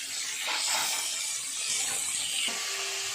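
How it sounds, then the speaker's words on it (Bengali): Cauliflower frying in a pan with turmeric powder and a little salt, a steady broad sizzle and hiss running throughout at moderate loudness, with no voices over it. "হলুদ গুঁড়ো আর অল্প একটু নুন দিয়ে ভালো করে ভেজে নেব লাল করে।"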